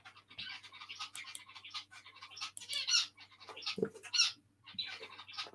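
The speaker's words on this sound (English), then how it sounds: "Oh, my little birds are chatty again." Small birds chirp and chatter close by in quick, irregular bursts of high twittering, with a few lower squawks mixed in.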